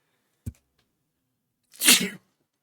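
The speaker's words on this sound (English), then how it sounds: "I'm going to sneeze." A single loud sneeze bursts out after a brief quiet pause, preceded by a short faint intake of breath, close to the microphone and with no other sound around it.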